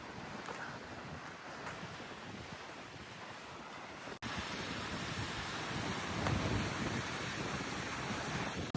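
Strong wind roars across Botany Bay beach near Broadstairs with surf behind it. It is a loud, continuous broadband rush with heavy gusting against the microphone, it grows stronger partway through, and no one speaks.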